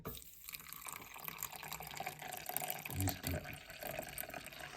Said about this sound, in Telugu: ఫస్ట్ దీంట్లో వాటర్ పోసుకోవాలి